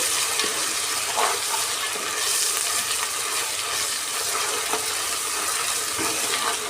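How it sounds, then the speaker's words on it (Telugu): Ginger paste fries in a pan for a moong dal khichdi and is stirred, making a continuous loud sizzle with faint scraping strokes running through it. No one talks. "ఇప్పుడు అల్లం పేస్ట్ వేసుకుందామండి ఒకసారి కలుపుకోండి"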